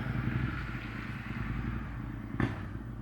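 A motorcycle engine rumbles at a distance, low and steady, with a brief clatter near the end.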